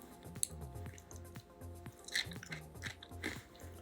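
Crunchy bites and chewing of a Dubai chocolate bar filled with kataifi, a series of close, crisp crackles and soft squishy mouth sounds spread across a few seconds, with no talking.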